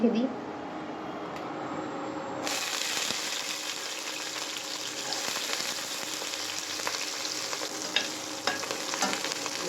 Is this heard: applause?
no